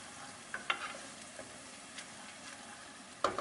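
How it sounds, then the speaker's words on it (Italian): Potatoes drop into hot oil in a pan over a medium-high flame, giving a faint, steady sizzle with a few brief clicks and stirring sounds, heard close and quiet. "appena comincia a sfrigolare ci mettiamo le patate"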